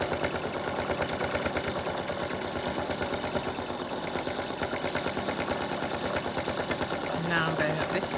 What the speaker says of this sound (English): I go over each line that I sew twice because I like the look of that